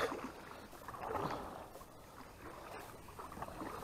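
An Old Town Pathfinder canoe is paddled on open water, with soft, quiet swishes of the paddle and faint water movement under light wind.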